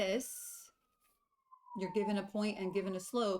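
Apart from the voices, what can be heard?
siren outside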